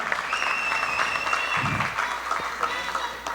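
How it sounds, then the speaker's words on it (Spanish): A crowd applauds steadily with dense clapping throughout, fairly loud and continuous, at an Ecuadorian political event. "le invito a un fuerte aplauso"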